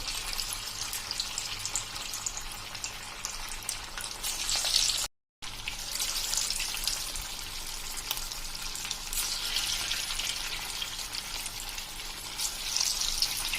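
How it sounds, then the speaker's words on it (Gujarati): Fasting bhajiya balls, made without potato, frying in hot oil with a steady, bright crackling sizzle that stays close and continuous, broken only by a brief moment of silence. "આ રીતે તમે ફ્રાય કરતા જવાના છે મિત્રો"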